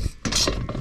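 A wrench tightens a bolt on a rooftop solar panel mounting rail: a short, close burst of metallic ratcheting clicks after a brief pause, with no talking.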